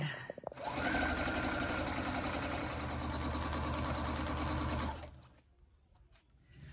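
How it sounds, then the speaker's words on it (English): Sewing machine stitching layered doublet fabric: a continuous close mechanical whir with rapid needle clatter running for about four seconds, then stopping, followed by faint handling noises. "Now I get to start sewing."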